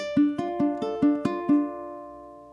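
Plucked ukulele notes in classical fingerpicking of Giuliani's Allegro ring out in an even, steady pulse of straight eighth-note single picked strings, clear and close, with the last note left to decay.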